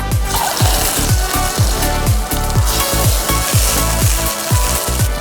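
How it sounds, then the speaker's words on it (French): Boiled gnocchi grill in olive oil in a pan, giving a continuous bright sizzle with a steady rhythm of low thumps and scrapes as they are moved and turned, close and fairly loud. "je vais mettre un petit peu d'huile d'olive pour griller mes gnocchis"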